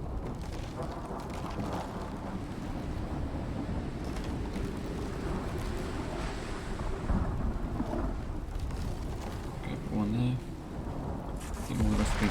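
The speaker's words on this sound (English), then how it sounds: "Oh, lightning storm is coming." Thunderstorm in the survival video game Icarus, a continuous low rumble of thunder with rain-like noise filling the background, heard under someone talking as he builds.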